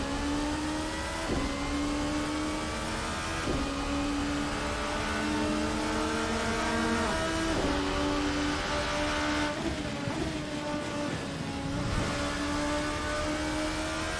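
A VRC ByCollin P1 race car engine in Assetto Corsa at Silverstone, revving high and steady, then repeatedly climbing and dropping through the gears with a whining, sustained tone and no talk.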